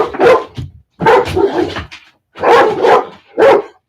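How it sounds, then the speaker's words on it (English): A dog barks in four loud, close bursts, some of them doubled, each split by a short silence. "The neighbor came in with their dog."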